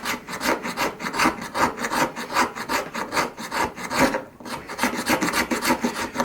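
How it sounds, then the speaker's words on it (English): A knife blade scrapes fat wood outdoors, loud and close, in a quick, even back-and-forth rasp with one short pause midway. "Maybe some fat wood. Scrape that."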